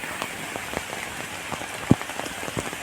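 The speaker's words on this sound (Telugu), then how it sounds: "ఫుల్ ఎండ కొట్టి ఇప్పుడే వర్షం పడుతుంది" Rain patters steadily onto open ground where a flock of sheep grazes, a dense hiss of drops with a few sharper splats close by, heard alone without voices.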